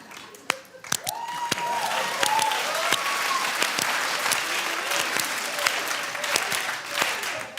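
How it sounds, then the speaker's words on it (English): Audience applause for a soul clap on a BET talk show, a loud sustained crowd of clapping hands with sharp individual claps standing out near the front and faint voices mixed in. "I like a soul clap more though."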